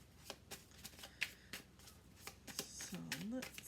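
Tarot cards shuffled in quick riffling bursts, a steady papery flutter close to the microphone, with a short voiced sound near the end.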